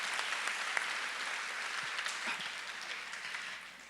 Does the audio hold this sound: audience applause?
yes